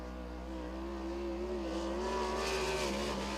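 A sprint race car lapping Lincoln Speedway at a PA Speedweek event: a loud, steady engine drone with a rising pitch as the car accelerates, heard from nearby.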